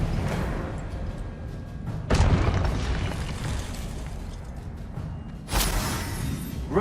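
Spell blasts in the Hogwarts Legacy video game, sharp booming bursts striking at two points amid continuous magical battle noise and rumble, loud and close with no talk.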